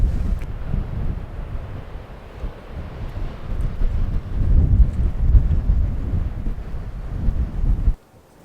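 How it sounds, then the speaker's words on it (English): Strong coastal wind in Newquay buffets the microphone in low, rumbling gusts that rise and fall, then cuts off abruptly near the end. "Windy."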